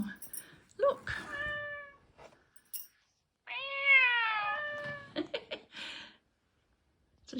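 Two clear, drawn-out cat meows from a ragdoll cat indoors, close and fairly quiet, followed by a few short chirpy sounds.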